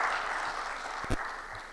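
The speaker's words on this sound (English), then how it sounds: "you can give the last audience, a round of applause as well" Brief audience applause at a technology week event, a dense even patter of clapping with one sharp louder clap near the middle.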